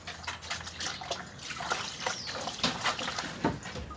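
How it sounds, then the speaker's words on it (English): Liquid pours and splashes steadily into a beer brewing vessel, with trickling and sloshing throughout at close range, no talking. "I think I'm going to just pour this in now."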